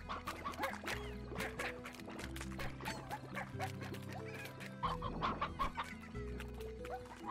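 Chickens in the video game Slime Rancher cluck in a busy, overlapping chorus of short, repeated calls over a low background hum. The calls are fairly near, and there is no talking.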